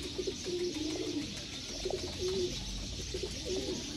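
Teddy pigeons coo softly in a breeder's loft, giving repeated low, rolling calls in short bursts over a steady background hiss, with no talking.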